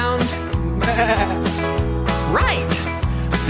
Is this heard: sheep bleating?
yes